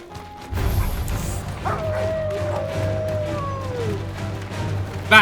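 Dogs in the video game Final Fantasy XVI give a drawn-out howl over a low droning game background, with a few yips and barks around it and a sharp crash near the end.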